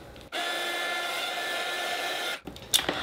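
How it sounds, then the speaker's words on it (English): Craft heat gun drying paint, a steady whining blower hum that starts abruptly, holds evenly for about two seconds close to the listener, then cuts off, followed by a few small clicks. "this is just a heat gun"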